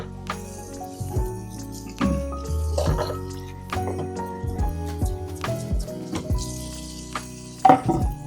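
Dishes are rinsed at a kitchen sink under a newly installed faucet, with dripping and splashing water, clinks of crockery and scattered knocks, moderately close and irregular.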